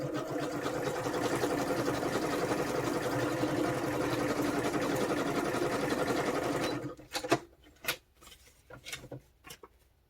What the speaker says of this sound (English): I'm going to stitch two sides of it to add texture.